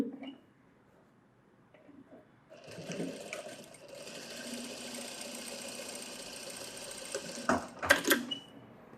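A sewing machine stitches a front cup shape in tailoring, a steady mechanical whir running for several seconds at close range after a quiet start, ending with a few louder clunks.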